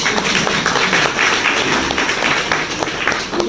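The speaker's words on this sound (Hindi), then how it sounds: "इसके लिए ताली तो बजा दो।" An audience at a business plan seminar claps together in a brief, moderately loud, fairly even round of applause.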